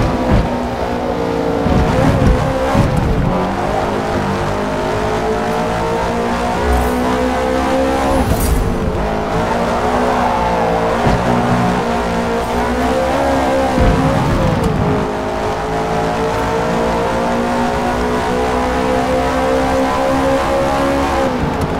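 Subaru BRZ race car in a video game roaring steadily down a straight during a sunset race, its engine note holding high and loud throughout with a couple of brief dips as it shifts or lifts.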